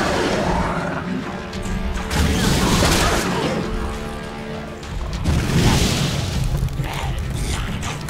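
Booming explosions and crashing gunfire from combat in the video game ELEX, loud and continuous with dense layered impacts throughout and a burst of heavier blasts near the end.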